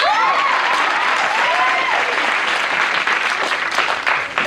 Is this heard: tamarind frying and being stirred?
no